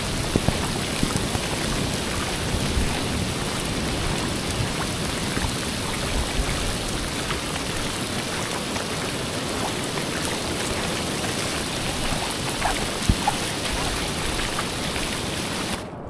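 Steady heavy rain pouring down, a dense continuous hiss of drops on surfaces with no pauses, loud and close.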